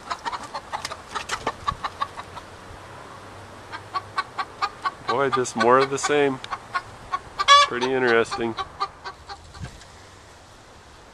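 Chickens clucking in a backyard flock kept alongside a rabbit, a run of short repeated clucks across the clip, with someone talking in bursts over the middle.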